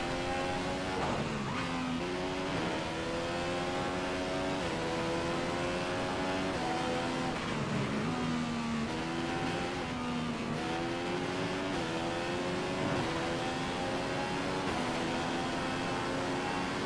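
A Formula 1 car in the F1 2015 video game races around the Russia circuit, its engine screaming constantly and loud, pitch climbing through gears and dropping on downshifts, with no talking over the sustained roar.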